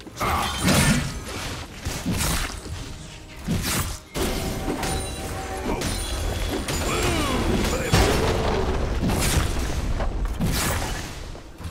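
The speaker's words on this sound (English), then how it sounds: "Red team's turret has been destroyed." Turret being destroyed during a League of Legends match, heavy booming impacts and crashing thuds amid continuous game effects, with an announcer voice speaking over the action.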